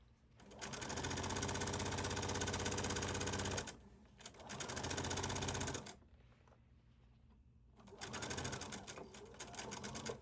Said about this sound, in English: We're sewing with right sides together, sewing from the bottom to the top of the shirt.